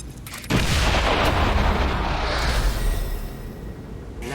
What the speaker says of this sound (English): This is why I like having grenades on It'll be big.